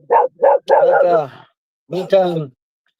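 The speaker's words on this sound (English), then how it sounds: "it's probably just somebody's dog" A dog barks close and loud: three quick barks in a row, a short pause, then two more.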